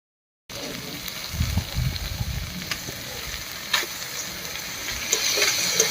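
Mung dal drops into a pan of fried spices and sizzles steadily, with a burst of louder crackling and stirring near the start, then a continuous frying hiss with occasional spatters.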